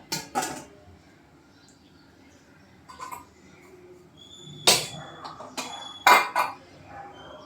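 Several sharp metallic clanks and clinks of idli steamer pots being set down and stacked, spaced apart with quiet pauses between them.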